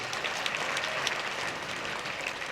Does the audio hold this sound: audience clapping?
yes